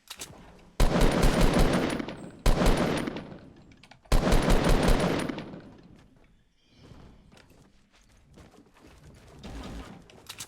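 Assault rifle fire in Fortnite arrives in three loud, dense volleys of rapid shots, each lasting about a second or two, followed by quieter scattered game noise.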